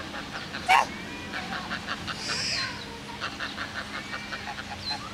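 Ducks and geese call out nearby, a sharp honk early on followed by scattered quacks and softer honks in the open air.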